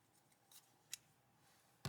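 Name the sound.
scissors cutting yarn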